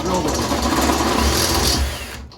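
A step bit drills a hole for a rivet nut in a van cabinet build, a steady close whirring grind lasting a couple of seconds before it tails off, with a voice in the background.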